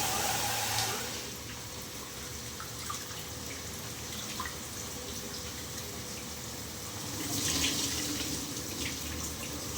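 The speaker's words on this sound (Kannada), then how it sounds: "ಅಕ್ಕಿನ 3 ಸರಿ ಚೆನ್ನಾಗಿ ನೀರಲ್ಲಿ ತೊಳ್ಕೊಬೇಕು." Rice is washed in water with running water, splashing and swishing held at a steady level throughout, swelling slightly toward the end.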